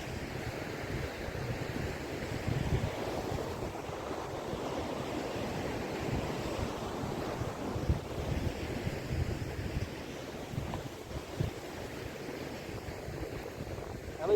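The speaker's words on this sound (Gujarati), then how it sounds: "દીવનો નજારો દરિયાનો" Sea waves at Diu beach wash in steadily as a broad, continuous surf roar, with wind buffeting the microphone throughout and no voices.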